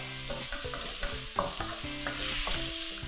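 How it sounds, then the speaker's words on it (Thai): Egg, shrimp and squid stir-fried for fried rice in a hot pan, sizzling steadily while a spatula scrapes and clanks in quick irregular strokes, close and fairly loud. "ผัดให้กุ้งกับปลาหมึกสุกด้วยนะครับ"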